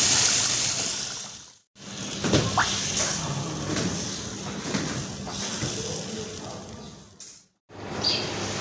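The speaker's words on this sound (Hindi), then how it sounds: "और अब डालेंगे हम इसमें पानी" Water pours into a pot of dal, a continuous splashing rush with watery gurgles that cuts off briefly twice, heard close in a kitchen.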